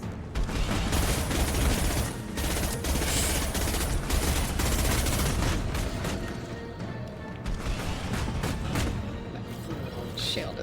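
Dense, sustained gunfire and explosions from the 2010 video game Mass Effect 2 keep up a loud, rapid stream of shots and impacts with hardly a break from start to finish.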